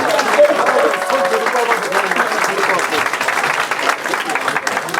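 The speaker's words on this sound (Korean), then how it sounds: "박수." An audience at a church youth winter retreat applauds after a skit, a dense, sustained clapping from a crowd, loud and steady throughout, with voices talking over it.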